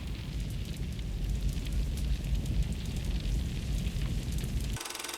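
A fireball effect roars steadily, a dense broadband whoosh like rushing flame that holds for about five seconds before cutting abruptly to a thin, quieter hiss.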